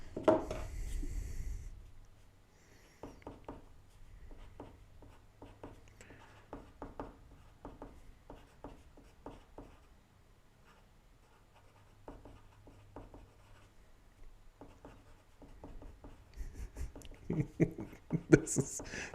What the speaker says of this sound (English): I need to erase some of this